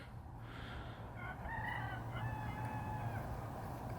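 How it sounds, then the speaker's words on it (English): A rooster crows in the distance from outside an abandoned mansion with a wide view, a faint drawn-out call carried over a low steady background rumble, heard alone with no talk. "It's also crazy how far away you can hear that rooster"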